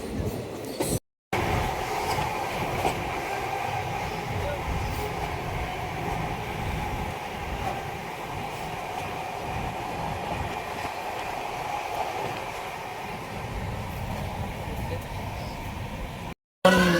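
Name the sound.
train crossing the Farakka bridge in India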